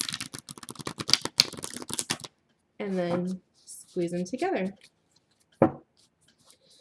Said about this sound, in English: that's how I shuffle my cards